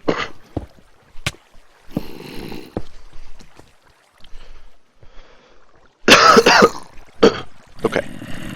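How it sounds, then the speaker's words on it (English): A few sharp coughs and throat clearing in a quiet room, scattered bursts with a louder, longer cluster near the end and soft rustling between. "Sorry about that cough."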